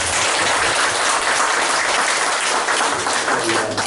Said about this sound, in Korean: 박수 한번 더 환영합니다